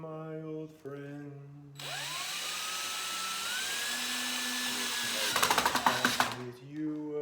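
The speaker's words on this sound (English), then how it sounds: "Now we're drilling the holes. Got the hole saw bit on the drill here" A DeWalt drill fitted with a hole saw bit spins up and drills holes for a wine advent calendar, a loud rising whine that holds steady then chatters as it bites, with voices before and after.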